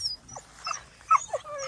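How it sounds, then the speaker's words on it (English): Guard dogs make quiet whimpers and soft yips over a few brief moments, heard faintly at low volume. "Good guard dogs."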